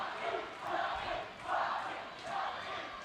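Rival crowds at a high school wrestling match between the SKHS Wolves and Central Kitsap Cougars chant and yell in pulsing swells, a roomy indoor roar rising and easing in a steady rhythm.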